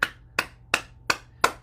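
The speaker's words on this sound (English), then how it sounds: "Clap your hands," Five sharp, evenly spaced hand claps, close and moderately loud, each with a quick decay into quiet, during a bouncing exercise class.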